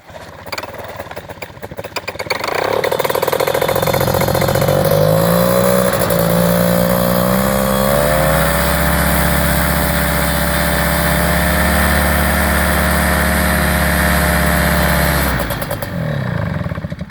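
A Fresh Breeze paramotor engine catches after a few sputters, then settles into a loud, steady two-stroke drone close by, rising briefly in pitch before holding and cutting off near the end.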